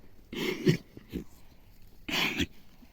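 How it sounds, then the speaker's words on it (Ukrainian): A dog coughs and hacks nearby in two harsh, breathy bursts separated by a quieter wheezy pause, indoors with no talking. "Дуня, чого ти кашляєш?"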